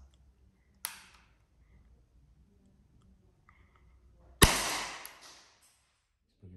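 An Umarex Beretta M92FS air pistol fitted with a dummy silencer fires at a ten-meter range. One faint sharp crack comes early, then a louder, sharper report with a short rattling decay in an otherwise quiet setting.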